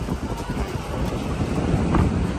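Steady wind buffets the microphone in a continuous low rumble near a flock of pigeons, with gusts swelling slightly toward the end.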